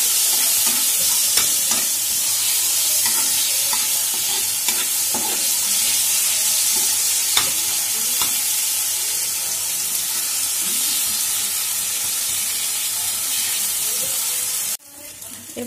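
Green chillies and spices for a katla fish curry sizzle loudly in oil as they are stirred with repeated spatula scrapes, and the frying cuts off abruptly near the end.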